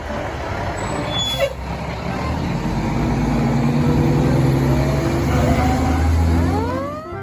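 A heavy fire truck idles and rumbles nearby, with a brief hiss of air brakes early on and rising engine tones.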